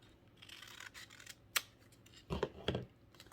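A few quiet, crisp snips of scissors cutting paper, with soft rustling between them and a short cluster of cuts near the end.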